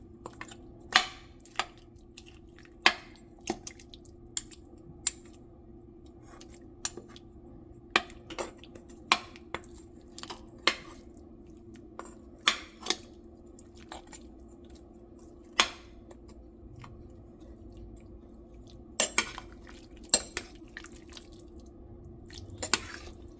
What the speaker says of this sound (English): I'm just going to break it up some with my spoon